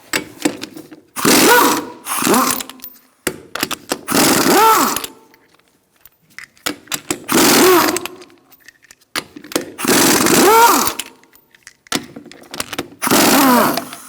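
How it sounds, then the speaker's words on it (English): A ratchet with a 19mm socket loosens the lug nuts on the rear wheel of a 2002-2006 Honda CR-V, making several close, loud bursts of rapid clicking separated by short pauses. "Using a 19mm socket, we're going to remove our lug nuts."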